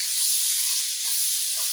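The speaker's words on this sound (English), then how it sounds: "You let that saute for about 2 minutes." Red pepper sauteing in a teaspoon of oil in a pan gives a steady, close, bright hiss with no talking over it.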